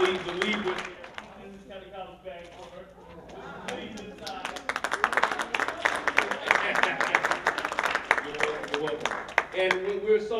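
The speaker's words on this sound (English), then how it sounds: "Let's give another round of applause for Dr. Valethia Watkins." Audience applause at a Martin Luther King event held at Essex County College, a steady wash of clapping building louder after a few seconds and continuing throughout, with some voices mixed in.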